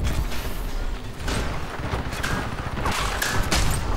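A weapon fires in the Crysis 3 video game as a loud, continuous barrage of rapid shots with mechanical clatter. Heavier bangs stand out near the end.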